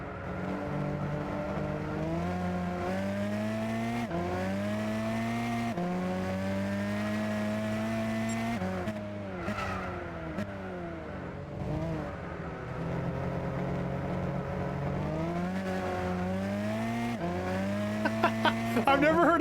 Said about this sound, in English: Every time the car makes a loud wah, it's because I straightened up the wheel.